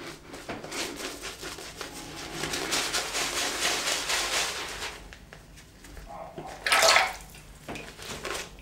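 Tap water runs steadily into a sink basin while a shaving brush lather is being worked up, a continuous broadband splashing rush with a brief louder gush near the end.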